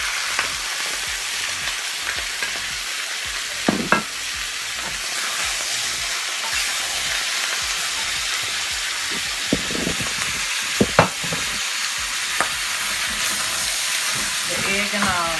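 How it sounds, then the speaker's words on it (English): Chicken, egg and fried rice stir frying in a pan, giving a steady close sizzle throughout with a few sharp scrapes and clatters of the utensil, and faint talk in places. "So now the rice is fried. You're going to take all this and you're going to add it to the rice."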